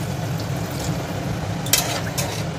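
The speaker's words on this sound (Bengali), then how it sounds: "দিয়ে একটু ভালোভাবে নেড়ে চেড়ে চিকেন সিদ্ধ করা জলটা আমি এই পর্যায়ে দিয়ে দেবো।" Chicken boiling water going into a hot pan of chicken bharta mixture, giving a steady broadband sizzle and bubbling with faint stirring and utensil clinks, continuous and close throughout.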